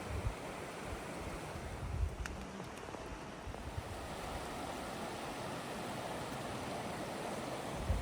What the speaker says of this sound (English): So basically water's just coming out of the ground here at this point